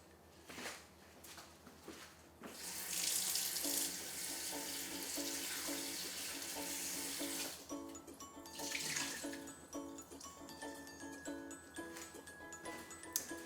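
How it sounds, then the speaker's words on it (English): Cold tap water runs steadily over raw chicken being rinsed in a kitchen sink, a bright continuous splashing stream with small clinks and shifts in the flow as the meat is moved under it. "first rinse the chicken with cold water a little bit, and it'll get rid of any additional fat"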